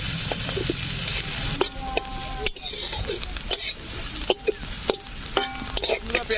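Chopped onions frying in mustard oil for a village-style green chicken dish, a continuous close sizzle with occasional scraping stirs and clinks of a utensil against the pan, under some background noise.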